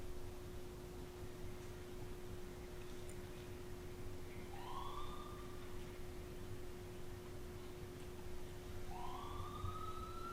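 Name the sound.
siren outside the building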